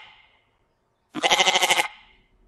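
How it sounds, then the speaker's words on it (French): A single goat bleat, loud and close, with a quavering, wavering tone lasting under a second, set against near silence. "Le son de la chèvre est..."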